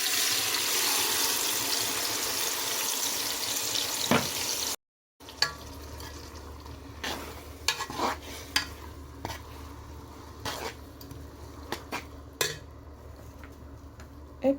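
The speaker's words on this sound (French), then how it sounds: "Maintenant qu'elle est bien chaude, je viens rajouter les légumes que j'ai mixés." Blended vegetables hit hot oil with a sizzle, then a steady low frying hiss broken by sharp stirring clinks and scrapes, while making spinach leaf sauce.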